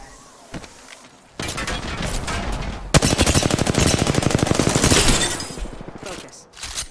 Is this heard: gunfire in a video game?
yes